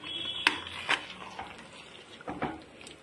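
A spoon stirs and mixes chicken masala curry in a pot, with a couple of sharp metallic scrapes and knocks against the pan, then softer wet churning, close and moderately loud.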